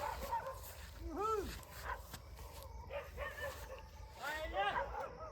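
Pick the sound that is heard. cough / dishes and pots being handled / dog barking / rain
dog barking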